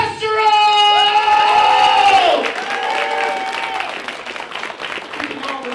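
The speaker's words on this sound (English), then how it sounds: "Please put your hands together for the very funny James Testero!" A comedy club crowd applauds and cheers loudly for a comedian being introduced on stage, with whoops and shouts over sustained clapping that fades somewhat after a couple of seconds.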